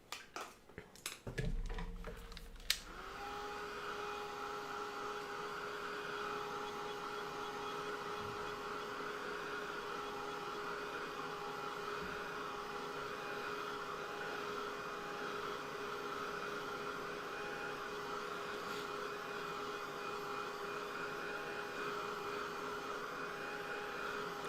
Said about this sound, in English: Keep that dryer moving.